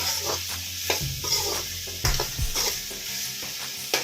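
Ridge gourd and onion sauté in a pan for thokku, a constant close sizzle broken by several stirring scrapes and spatula knocks against the pan, with no speech.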